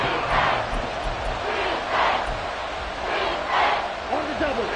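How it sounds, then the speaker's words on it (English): Roaring football stadium crowd during a Panthers game in the final minute, a steady wash of noise swelling in repeated waves, with faint voices underneath. "this crowd making it hard to hear"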